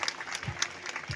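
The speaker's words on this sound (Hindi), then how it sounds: "इस खुशी में सबको ताली बजाएंगे" An audience claps at a garland ceremony during an engagement program, giving a short burst of scattered, close, lively applause with a faint voice underneath.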